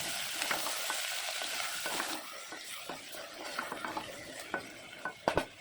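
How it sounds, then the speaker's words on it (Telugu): A vegetable biryani mixture is stirred in a pressure cooker, giving soft sizzling with scraping and light metallic clinks of a spoon against the pot, uneven in rhythm and fairly quiet, with a few sharper knocks at the end. "ఇప్పుడైతే ఒకసారి మిక్స్ చేసేసుకోవాలి."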